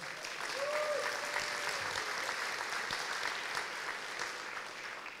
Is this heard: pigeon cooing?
no